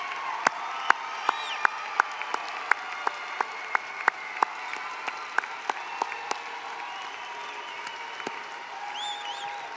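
A commencement crowd applauds at a university graduation ceremony, sustained clapping from a large audience with scattered louder claps, whoops and cheers rising over it, fading near the end.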